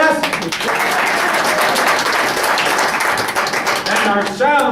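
Audience applause for the decorator at the curtain call of a melodrama, a dense, steady wash of many hands clapping for several seconds with a few voices rising near the end.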